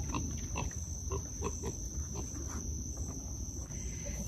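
Pickles, a hog in an outdoor pen, gives a run of low, soft rhythmic grunts, fairly close, over a steady high whine of crickets or insects.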